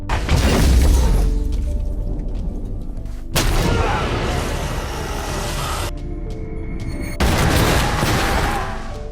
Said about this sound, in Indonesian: Steeler melempar granat ke monster itu. Namun, ledakan granat itu tetap tidak mempan.